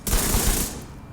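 A Vector submachine gun fires at very high speed in a video game, a loud, close, continuous burst of rapid shots lasting under a second before cutting off.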